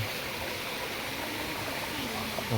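Continuous rushing waterfall beside a forest temple in Laos, a dense, even roar of falling water that fills the whole stretch with no pauses.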